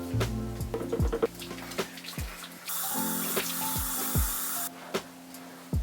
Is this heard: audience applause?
no